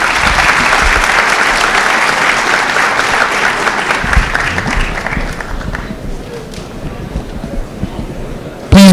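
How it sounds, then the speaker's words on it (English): Attendees at an IT modernization all-hands meeting clap loudly in a dense burst that thins and fades out over several seconds, leaving quieter room noise before a sharp sound at the very end. "you should give yourselves a round of applause"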